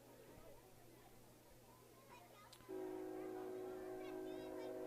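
A train horn blows steadily in the distance beside a high school football game, a sustained multi-tone blast that begins partway through and holds to the end over the hum of the crowd.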